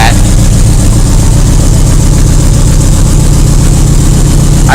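A 1980 Yamaha XS1100 motorcycle engine idles steadily at about 1000 rpm, a continuous close, loud low rumble with an even pulse and no revving throughout.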